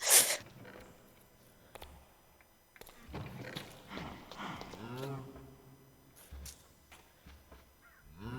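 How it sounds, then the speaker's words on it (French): Cows mooing in the Minecraft video game, a few low drawn-out moos rising and falling among other soft in-game sounds, moderately close with no speech over them. "Il y a des vaches."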